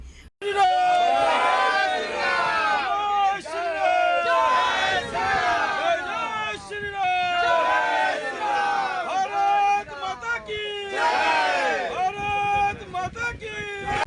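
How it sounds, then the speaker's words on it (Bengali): BJP workers at a rally ground in Jagaddal chant Jai Ram slogans at the local MLA, a loud crowd shouting together in repeated rhythmic waves. "তারা জগদলে বি বিধায়কের উদ্দেশ্যে জয় রাম স্লোগান দিতে থাকেন"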